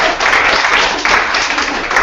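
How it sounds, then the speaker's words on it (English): An audience at a live humor talk applauds for about two seconds, a loud, close wash of clapping from many people. "You can clap."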